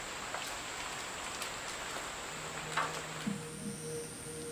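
Steady rain hisses in a soft continuous wash on a park gazebo in Japan, with a few faint distinct drips and a distant tone in the background.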